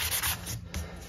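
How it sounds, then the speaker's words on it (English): A 120 grit sanding block rubbed by hand along the edges of a DIY miter saw zero-clearance fence, giving quick, close, scratchy strokes that are soft and brief. "I'm just gonna knock down any sort of potential edges just with some 120"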